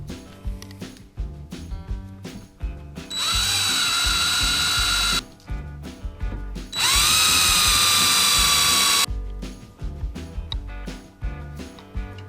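A power drill drives screws while a YakAttack BlackPak crate is rigged, with two long, loud whirring runs that rise in pitch as each screw seats, separated by quieter clicks and handling noise.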